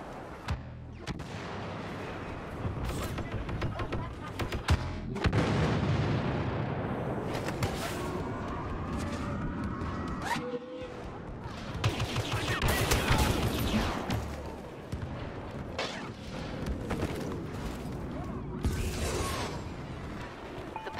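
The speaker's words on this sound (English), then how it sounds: "Airstrike incoming." Booming airstrike explosions and gunfire in the Star Wars Battlefront Walker Assault mode, a dense, continuous barrage of blasts and crashes with heavy bursts around the middle, loud throughout with faint game voices underneath.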